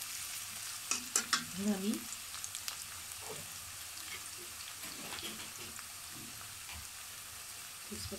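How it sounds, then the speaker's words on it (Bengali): Onions fry in a pan with a busy sizzle and crackle, while a utensil scrapes and clinks in a few quick bursts early on. A brief spoken word cuts in near the start. "পেঁয়াজটা ভেজে নিই, পেঁয়াজটা বাদামি হলো"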